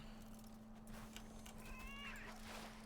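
A faint cat meow from a pet companion in World of Warcraft rises briefly over a constant low game hum, one short call near the middle.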